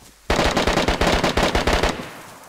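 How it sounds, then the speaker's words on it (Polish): Rapid, loud bursts of close automatic gunfire crack near the player in the video game DayZ, roughly a dozen sharp shots in quick succession that stop abruptly and leave a short fading tail. "ale strzały koło mnie"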